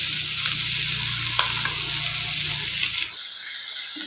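Curry leaves, coriander and coconut sautéing with ponnanganni greens in a hot pan, a steady close sizzle with stirring scrapes that fades out near the end, no voices.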